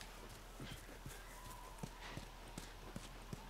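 Rhythmic horse hoofbeats in The Last of Us, clopping at a walking pace over a constant low hum, faint and somewhat distant.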